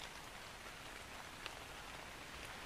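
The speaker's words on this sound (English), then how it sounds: "How long do you think this rain's gonna last?" Rain falls steadily in the survival video game ARK, a soft, even hiss of drops with no breaks, fairly quiet and heard alone.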